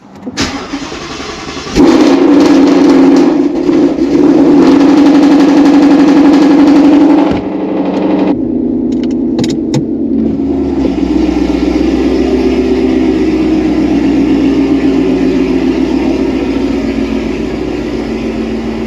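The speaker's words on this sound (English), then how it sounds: "Perfect excuse for nice, loud, catless, long tube header POV drive." A Ford S550 Mustang GT with catless long tube headers running on E85 cranks to life and settles into a loud, deep, rumbling idle close by, a brief blip dipping before the steady burble continues.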